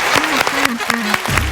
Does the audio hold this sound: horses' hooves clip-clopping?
no